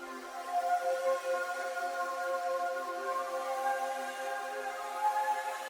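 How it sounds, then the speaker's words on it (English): A sustained Electra X synth pad, patch 8 from the Ghosts in Space bank, holds a smooth, airy chord with a soft shimmering top, steady and unbroken throughout, close and alone. "So I went ahead and I got a pad from Electra X,"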